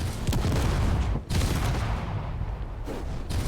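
Turret gunfire in the Space Engineers video game comes as dense, rapid bursts of shots in a continuous loud barrage, with a brief gap partway through.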